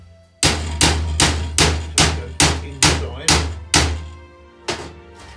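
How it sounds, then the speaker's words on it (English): Hammer tapping sheet metal down into a former while making a garden brazier, with about nine loud, close, evenly spaced thunking blows, each ringing out briefly. "I'll give this a tap down."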